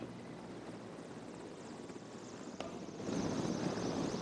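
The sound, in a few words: Mi-17 helicopter flying over Republic Day parade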